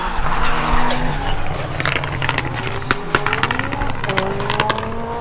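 A rally car corners hard on the Cadwell Park circuit during an end-of-season rally, its engine note rising and dropping as the tyres squeal and skid, loud and close, with crowd noise and brief crackles around it.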